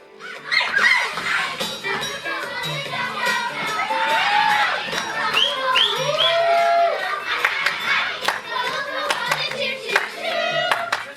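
A crowd of performers in a stage musical cheers, screams and shouts together, loud and sustained, with clapping, whoops and high excited cries throughout.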